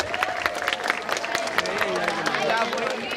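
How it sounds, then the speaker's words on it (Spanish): A crowd applauds at an outdoor community celebration in Riosucio, Chocó, with dense clapping and scattered cheers mixed with voices and crowd murmur throughout. "El aplauso."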